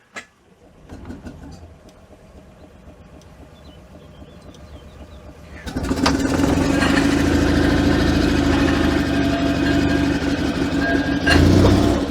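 Invacar invalid carriage engine cranked and starting after a long lay-up, a brief click and quiet mechanical churning before the small engine catches and settles into a loud, steady, buzzing idle close by.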